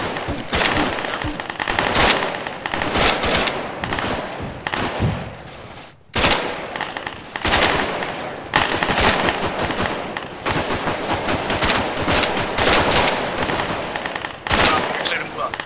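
Rapid bursts of automatic gunfire during squad combat training in a video game, loud and close, repeating in dense volleys with short pauses, while players talk over it.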